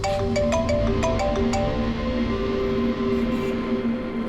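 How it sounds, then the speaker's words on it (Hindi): A phone ringtone plays as a repeating melodic electronic tune of short tonal beeps, loud and close, over a low background hum with no talk. "डॉक्टर सालुंकी का फोन था"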